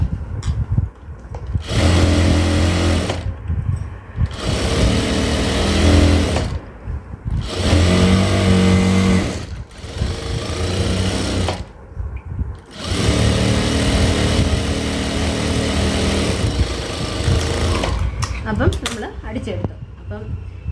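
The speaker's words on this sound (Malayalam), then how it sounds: "ഇവിടെ അര ഇഞ്ച് വീതിയിൽ ഞാൻ അടിക്കുക" A sewing machine stitches fabric, laying a half-inch-wide seam for elastic, in several loud runs of rapid whirring broken by short pauses, with someone talking between and over them.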